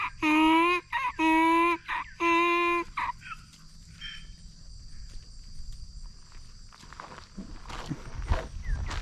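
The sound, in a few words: baby donkeys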